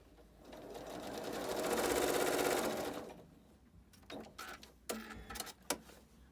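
Sewing machine stitching fabric for a quilt block, a rising and fading motor whir of about three seconds, then short bursts of stitching separated by pauses, close and alone.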